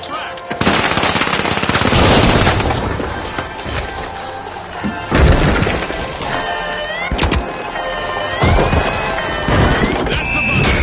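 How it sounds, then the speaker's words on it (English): Video game combat: a thrown frag grenade and bursts of loud automatic gunfire with crashing impacts, dense overlapping shots that stop and start in several waves, close and intense, no talking. "Tossing a frag!"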